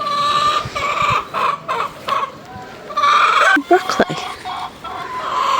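Loud roosters crowing over and over with clucking hens close by on an allotment; a person speaks briefly amid the racket.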